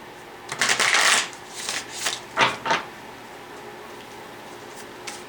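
Tarot cards shuffled by hand during a reading: a dense, close riffle burst followed by several shorter separate card slaps and rustles, then quiet room tone, with no talking.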